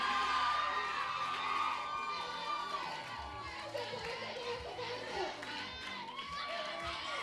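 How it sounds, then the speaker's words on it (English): Young campers shout and cheer during a team game, a loud burst of whoops and shouts at first, then lively crowd chatter and calls that continue throughout. "Guys, give us a cheer if you think your team is in the lead."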